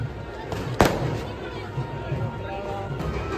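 A single sharp firecracker bang bursts out close by near the start at the Basavanapura festival, then fades into a steady murmur of crowd noise and voices.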